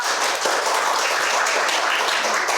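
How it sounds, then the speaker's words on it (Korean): Applause from a seminar audience thanking a business sponsor, a steady dense wash of many hands clapping throughout, fairly loud and unbroken, with no one talking over it. "스폰서 사장님 위해서 힘찬 감사 박수를 부탁드리겠습니다"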